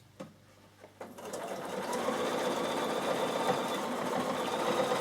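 A sewing machine with a quarter-inch presser foot stitches along fabric, starting with a few clicks and then settling into a steady, rapid mechanical whir that runs loud and close to the end.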